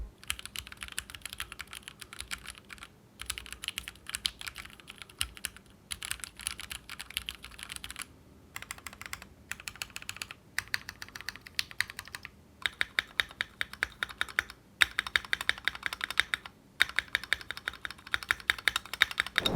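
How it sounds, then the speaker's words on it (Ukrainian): Steady typing on a mechanical keyboard with brown switches, soft tactile clacks in quick runs with brief pauses, close and fairly quiet. "Давайте послухаємо тайпінг."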